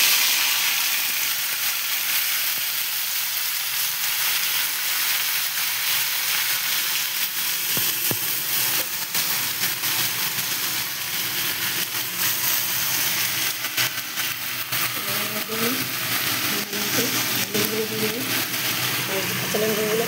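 Washed jute leaves fry with browned garlic cloves in oil, a steady close hiss and crackle throughout, with a voice speaking faintly over the sizzle toward the end.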